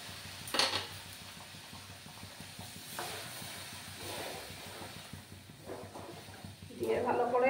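Stirring a suji (semolina) and matar mixture with added water in a pot on a gas stove: soft scraping strokes and faint bubbling hiss, with a few sharper clinks of the spoon against the pot, quiet and close.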